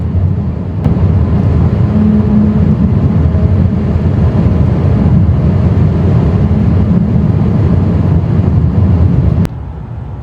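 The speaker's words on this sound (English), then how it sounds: "Can y'all hear this weird sound the tires are making?" A steady low droning hum of tires rolling on pavement from inside a moving Tesla, continuous with no voices.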